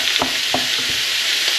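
Tomato Bolognese sauce simmers in a pan under a steady hiss while a spoon knocks and presses through it in three or four quick thuds, close and alone.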